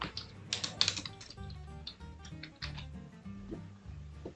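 Fingers type on a computer keyboard, a close run of light, irregular clicking keystrokes with a few louder taps near the start, entering text into an Android app builder.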